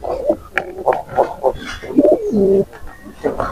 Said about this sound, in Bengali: দেখাচ্ছে এখানে অনেক সুন্দর সুন্দর কবুতর আছে। ডাক দেখছেন।